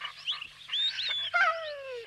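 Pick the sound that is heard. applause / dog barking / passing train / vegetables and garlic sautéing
dog barking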